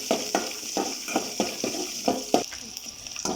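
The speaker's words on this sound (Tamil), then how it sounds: "பூண்டு நல்லா வதங்கி வரணும்." Garlic sizzles in hot oil while a utensil stirs and scrapes the pan in a steady rhythm of about two strokes per second, close up, while cooking vatha kuzhambu.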